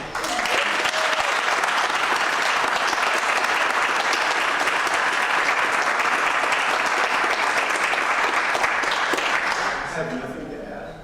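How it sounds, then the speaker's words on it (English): A warm round of applause from a city council meeting audience, dense and steady crowd clapping sustained for about ten seconds before tapering off at the end. "And have a warm round of applause."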